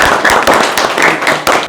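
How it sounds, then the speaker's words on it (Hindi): Loud applause from a crowd at a blood donation camp, a dense, steady patter of many hands clapping throughout, close and continuous. "मैं चाहता हूँ अपने लिए और हम सब के लिए एक बार जोरदार ताली बजा दें आप"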